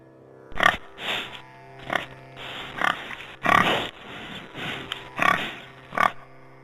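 A pig grunts and snorts in a rapid series of about ten rough, close bursts, loud and uneven in spacing, with no speech.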